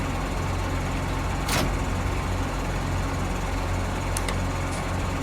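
A tractor engine idles steadily in Farming Simulator 19, a constant low rumble with a few faint clicks, no voices.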